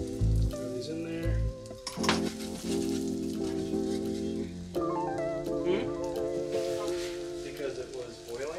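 Bluefish fillets sizzle and crackle as they fry in hot butter in a pan, a steady close sizzle running under music or talk throughout.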